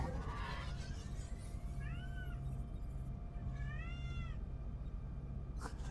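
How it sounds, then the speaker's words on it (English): An eight-month-old kitten meows twice, a short plaintive call followed a couple of seconds later by another, moderately close over a steady background hum and rumble. "My cat, my little kitten that's now 8 months old, has been outside a lot recently and is very talkative, has learnt to talk."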